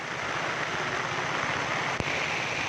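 Heavy rain pours down during a flood in Kuantan, a dense, unbroken hiss of falling water at steady loudness, with a single faint knock near the end.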